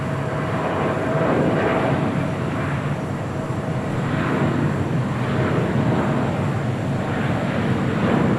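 An airliner departing Los Angeles International for Seattle gives a steady, loud broadband jet roar that holds evenly throughout, with no voices.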